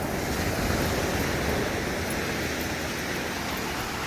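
Ocean surf on a beach during a dog walk, a loud continuous broadband roar of breaking waves close by, with some wind buffeting mixed in and no talking.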